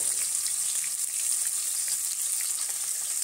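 Fish frying in a pan of hot oil, an even, close sizzling hiss with faint scattered spits throughout.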